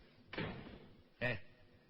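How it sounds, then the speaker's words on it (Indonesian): A house door is shut twice in quick succession: first a softer thump, then a sharper closing knock about a second later, both brief and fairly close in a quiet room. "Itu menutup pintu yang benar."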